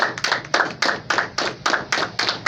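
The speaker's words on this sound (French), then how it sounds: "Can I give a clap?" A congregation claps in unison for the Lord, about a dozen sharp, regular claps in a steady rhythm at close range, with no talk over them.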